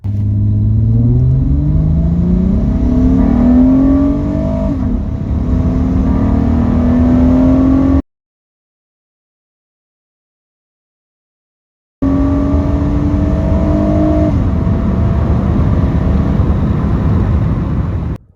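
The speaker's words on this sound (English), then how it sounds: "So let's go ahead, get this warmed up and take it out for a drive." An Acura MDX fitted with junkyard intake spacers revs and accelerates on a test drive, its engine rumbling loud and close in two long stretches split by a few seconds of silence, pitch climbing through each gear.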